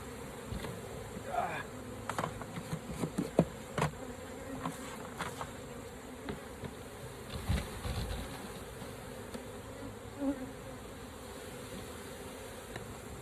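Italian honey bees buzzing around an opened hive during a mite check, a continuous close droning hum with scattered handling knocks and rustles, no speech.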